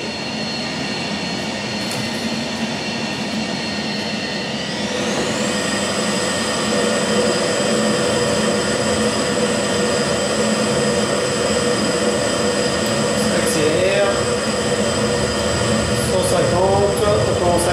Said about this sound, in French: on lève doucement le nez de l'avion et ça va décoller